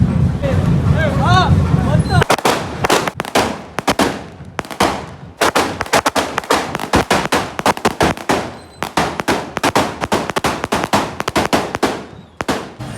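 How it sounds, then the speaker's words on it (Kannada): Voices talk briefly, then a long rapid string of loud, sharp firecracker bangs goes off close by at a Ganesh idol immersion procession, crackling and popping in dense bursts. "ಬಾಂಬು ದೇವ್ರ ಮುಂದೆ ಜಾಗ ಇಲ್ಲ ಅಂತ ದೇವ್ರು ಹಿಂದೆ ಬಂದ್ಬಿಟ್ಟು ಪಟಾಕಿ ಹಚ್ತವ್ರು ಇವರು"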